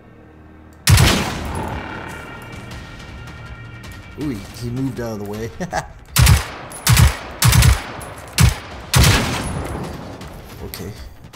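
Powerful gunshots from a weapon in the Generation Zero video game fire in a series of loud single blasts, the first alone, then a spaced volley of six or so, with someone briefly speaking between them.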